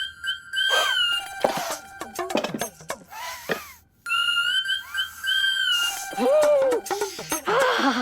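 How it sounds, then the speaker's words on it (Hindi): A pressure cooker whistle shrieks in long, loud, high-pitched blasts, broken up by short pauses and clattering sounds in between. "ये तो कुकर की सीटी है।"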